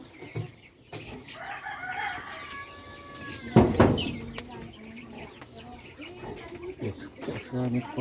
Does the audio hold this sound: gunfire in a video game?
no